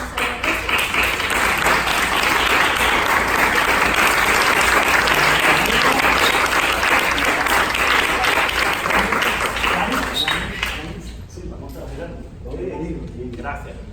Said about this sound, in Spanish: le demos la bienvenida con un caluroso aplauso